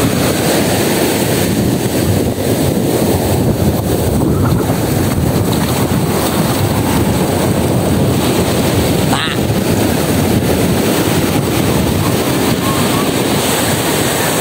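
Continuous crashing surf from strong, destructive waves and wind noise fill the coastal scene during rain at a steady, loud level, with a brief sharp crackle partway through.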